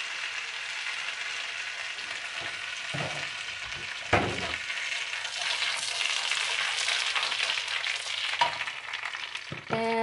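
Butter with a splash of cooking oil frying in a pan for shrimp with eggs, a steady close sizzle throughout, broken by a few clinks and stirring knocks of a utensil against the pan.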